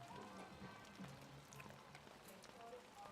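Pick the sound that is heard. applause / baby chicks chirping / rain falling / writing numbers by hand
rain falling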